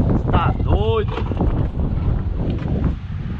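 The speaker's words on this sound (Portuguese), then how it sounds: "Vou ter que colocar a música porque tá ventando demais" Strong wind buffets the microphone in a constant roar while a grain truck is being tarped, with a brief whistling or creaking tone near the start and faint voices underneath.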